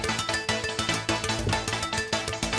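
Heavyocity Mosaic Neon synth layers bells, a voltage pusher and a coin meltdown sound together in a dense, loud rhythmic pattern with pulsing low beats and bright shimmering tones, alone without talk.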